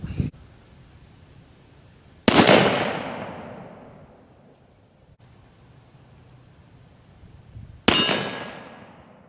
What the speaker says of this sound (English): let's attempt to take on some steel with the 1849 Colt.